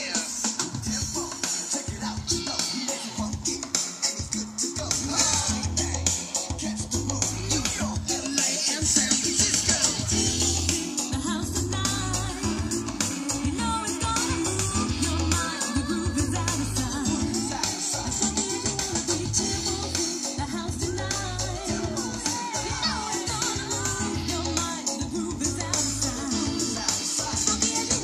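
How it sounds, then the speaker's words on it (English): A PCM audio file plays at 26 kHz from a stock Sega Genesis, giving dense, continuous, loud music with a thumping rhythmic beat throughout, with no talk. "this is a PCM file that's playing at 26 kilohertz."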